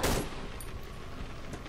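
A sharp loud gunshot opens the moment in the horror game Cry of Fear, followed by a fainter shot or two and a lingering low rumble.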